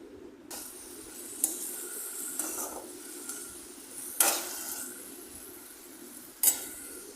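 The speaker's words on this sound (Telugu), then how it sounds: "కర్రీ లీవ్స్ కూడా ఒక టూ మినిట్స్ ఆయిల్లో ఫ్రై చేయాలండి" Curry leaves frying in hot oil for a mint chutney, a steady low sizzle with occasional sharp clinks of a utensil against the pan and stirring scrapes, close up with no talk.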